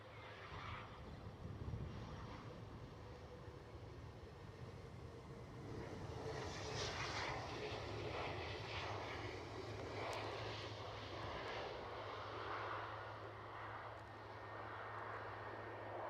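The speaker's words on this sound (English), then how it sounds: "These are good looking aircraft." Airplane engines roar steadily at Edinburgh Airport, a broad distant jet rumble that swells and holds for the whole stretch, with light wind in the background.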